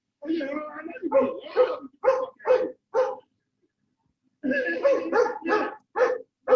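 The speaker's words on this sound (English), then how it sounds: "We got dogs." Dogs bark in a run of short, loud, nearby bursts, pause for about a second, then start a second round of barking.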